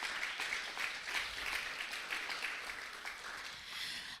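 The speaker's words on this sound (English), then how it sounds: "One more round of applause, please." An audience at an election candidate forum gives a round of applause, a moderate, steady patter of clapping heard at some distance that tapers off at the end.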